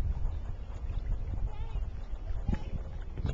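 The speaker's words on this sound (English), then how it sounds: "It's kind of windy, as you can see by the cattails blowing." Wind gusting across an open lake with cattails, buffeting the microphone in a steady low rumble while water laps near a canoe.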